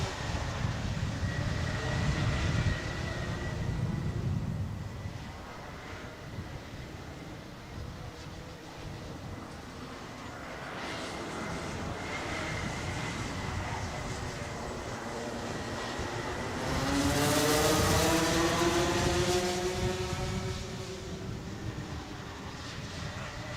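Racing karts at the Motorsport Ireland National Karting Championships at Whiteriver sweep through the final corner and across the start line: a steady, droning buzz of many small engines that swells loudly as the pack passes close, then fades.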